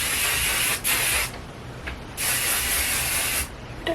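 Heat protection spray misted onto hair in two long bursts of bright hiss, close and loud, with a short gap between them and a brief final puff.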